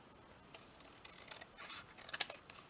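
Scissors snip through a small piece of paper during a papercraft project making an origami pouch, a few soft quiet cuts with one sharper snip near the end, no talking.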